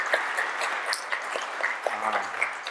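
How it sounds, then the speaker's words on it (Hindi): Steady applause from a gathered audience at an outdoor Vedic fire-ritual event fills the clip as a dense, even patter of clapping, with faint voices and a brief low hum near the end. "जितना बड़ा समर्थन उतनी जोरदार ताली होनी चाहिए"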